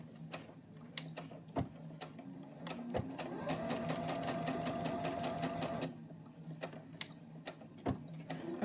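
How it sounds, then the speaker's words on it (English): Sewing machine stitching a seam for foundation paper piecing, a rapid even run of needle clicks lasting about three seconds, framed by scattered single taps and quiet room noise. "now I'm going to sew that seam again"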